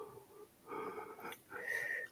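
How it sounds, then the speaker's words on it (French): A person yawns during an online call, a drawn-out breathy, wheezy exhalation with two voiced swells, close and moderately loud, with no other talk. "je baillais, pardon"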